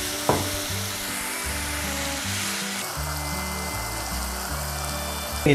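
Tamarind water with chillies bubbling and sizzling in a pan for chutney, a steady close frying hiss with rhythmic low bubbling throughout, fairly loud and without speech.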